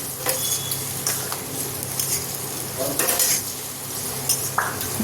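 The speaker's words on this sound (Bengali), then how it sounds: "কেটে রাখা আলুগুলো দিয়ে দিচ্ছি।" Cut potato pieces tipped into a hot pot of spiced oil for potato biryani, a close sizzle and frying hiss with clattering stirs and scrapes against the pot.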